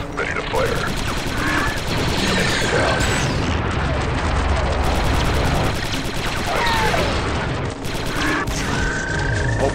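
Gunfire in the video game Republic Commando, with sustained dense bursts of shots and booms forming a continuous loud battle bed, while game voices speak over it.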